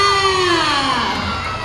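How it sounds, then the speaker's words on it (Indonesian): A crowd of children cheers and shouts together in a loud, sustained burst, their voices rising and sliding as one. "Mari kita beri tepuk tangan untuk Sakina kelas 3A"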